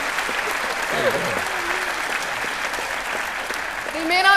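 An audience at a live stage event in a hall applauds continuously to welcome guests onto the stage, producing a dense, steady wash of clapping with a brief voice sounding near the end.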